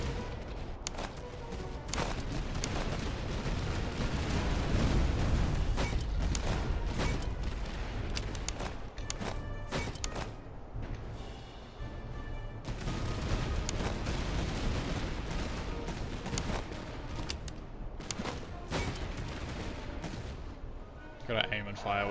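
Massed musket volleys ring out in a video game battle with Austrian fusiliers and grenadiers, dense and continuous with sharp cracks and heavy booms over a steady din.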